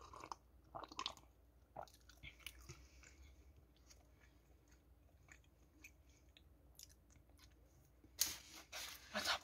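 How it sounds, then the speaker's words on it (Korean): Someone chews cheese balls with faint, close, crunchy bites and soft squishy mouth sounds, then a louder burst of crunching near the end. "왜 갑자기 치즈 소리가 들리지?"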